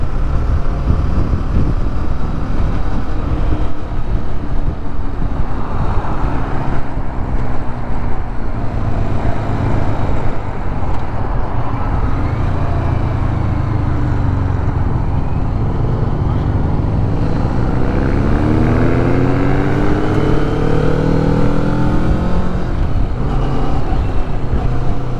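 A Kawasaki Vulcan S motorcycle on a demo ride drones loudly and continuously with steady engine tone and wind rush, its pitch rising and falling through gear changes on twisting roads.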